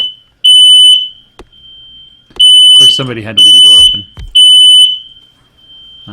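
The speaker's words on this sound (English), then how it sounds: "There goes the smoke alarm." A smoke alarm in the game Factorio 0.16 sounds loud, piercing beeps in several repeated bursts, with someone talking over part of it.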